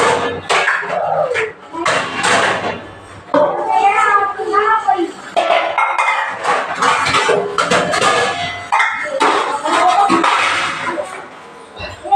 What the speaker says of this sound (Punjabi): ਪਹਿਲਾਂ ਤਾਂ ਮੈਂ ਭਾਂਡੇ ਖੋਲ ਦਿੰਦੀ ਹਾਂ